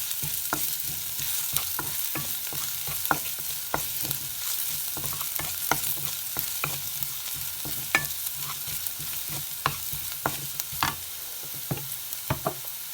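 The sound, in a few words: ginger sautéing in a pan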